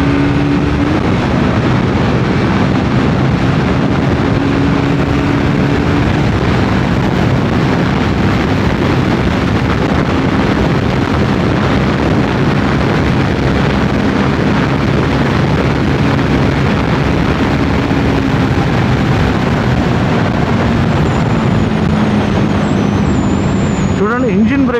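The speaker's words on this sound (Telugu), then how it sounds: "ఆ ఎగ్జాస్ట్ సౌండ్, ఆ డబుల్ బ్యారల్ ఎగ్జాస్ట్ కూడా" A Triumph Scrambler 400 XC with a double-barrel exhaust rumbles steadily while being ridden, its engine note shifting slightly under heavy, constant wind roar, with a rider's voice speaking over it.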